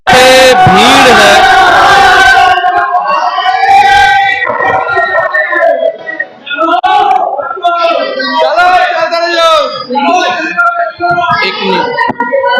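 A dense crowd fills a Shiva temple courtyard on Mahashivratri, with loud overlapping shouts and chanting voices rising and falling continuously, close and energetic throughout.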